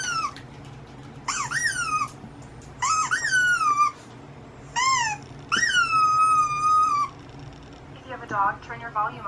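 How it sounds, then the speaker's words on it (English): A special whistle-like dog sound played through a speaker, five drawn-out tonal bursts that rise and bend downward with bright harmonics, separated by short gaps over a low steady background hum, ending in quicker chirpy fragments. "a special dog sound, like a whistle sound"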